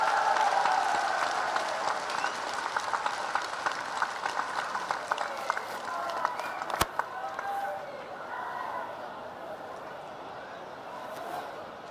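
A large crowd at a Jat political rally in Haryana stands and claps in sustained, dense applause that swells early and then slowly thins, with a sharp click midway and voices murmuring underneath.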